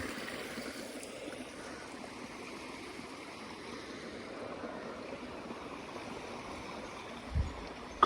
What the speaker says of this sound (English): one noisy stream